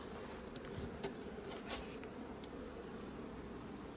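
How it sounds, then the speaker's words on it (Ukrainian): Honeybees at a hive of young split colonies, a faint, steady buzzing hum with a few brief louder passes of individual bees close by. "бджолка працює"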